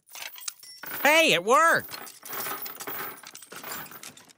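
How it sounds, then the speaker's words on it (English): In an animated comedy scene, a brief excited spoken exclamation gives way to a ring of handcuff and shackle keys jangling, a loose metallic rattle that continues for a couple of seconds. "these look like handcuff and shackle keys"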